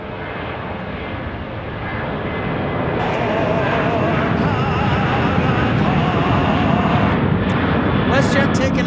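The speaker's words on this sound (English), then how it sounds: "WestJet taking off here." A WestJet airliner takes off at Phoenix Sky Harbor, its engine roar building over the first few seconds into a loud sustained rumble. A higher whine joins midway.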